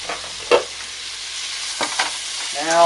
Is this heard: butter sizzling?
yes